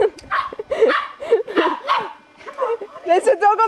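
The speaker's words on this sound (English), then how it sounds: "There's a dog on the racetrack." A dog loose on a racetrack at a grand prix event barks and yips in short bursts, close and loud, mixed with excited whimpering sounds and some voices.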